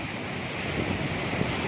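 White-foamed water roaring on the River Chenab at Head Khanki, heard as a steady, dense rushing wash with wind buffeting the microphone and no voices.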